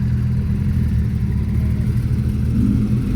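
A Porsche 911 GT3 of the 991 generation, shown at a sunny supercar breakfast meet at Goodwood, gives a steady, loud low engine rumble that swells slightly toward the end, close by, with no talk over it.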